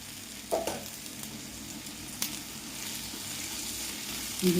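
Ginger garlic paste frying with salted onions in hot oil, a steady bright sizzle throughout, with occasional stirring scrapes and soft clinks of a spoon against the pan.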